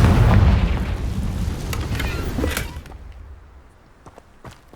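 A Confringo fire spell blast in Hogwarts Legacy, a loud booming burst at the start that rumbles and crackles for a couple of seconds before fading, followed by light scattered clicks in quiet.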